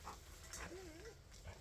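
A dog whimpers and whines softly for attention indoors, one thin rising and falling whine in the middle of the clip, heard faintly over low background noise.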